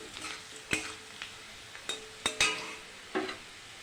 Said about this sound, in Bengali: কুচানো পেঁয়াজটাও আমি দিয়ে দিয়েছি, ভালো করে ভেজে নেব।